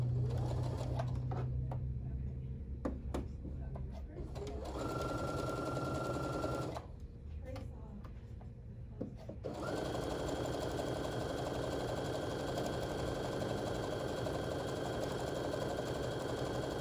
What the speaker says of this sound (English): So I'm going to sew 3 strips together.